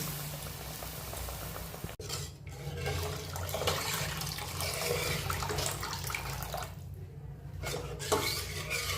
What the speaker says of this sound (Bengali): আমি নারকেল বাটা ধোয়া জলটা দিয়ে দিচ্ছি